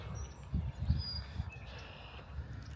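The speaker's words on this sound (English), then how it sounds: "Sounds like there's a ton of birds over there in those trees." Faint, high birdsong chirps drifting in from a distance over low rumbling background noise.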